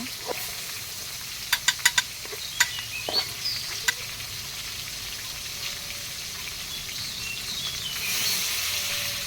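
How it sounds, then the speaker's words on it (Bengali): Tilapia pieces frying in hot oil in a pan, a continuous close sizzle with a few sharp clinks and taps early on, swelling slightly toward the end. "আর এই যে আমি মাছ ভেজে নেব এখন মাছগুলো দিয়ে দিচ্ছি"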